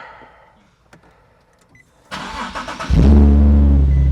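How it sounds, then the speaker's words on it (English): A Nissan 370Z fitted with a fuel return system cranks briefly after a quiet pause, then fires and settles into a loud, steady idle close by, with no talking. "start the car."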